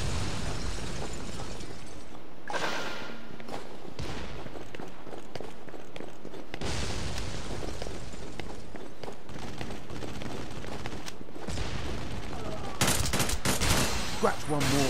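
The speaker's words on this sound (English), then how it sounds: "Taking fire!" Sustained gunfire and machine-gun bursts fill a Devil's Third battle on Wii U, with explosions and running footsteps in a dense, loud, continuous barrage.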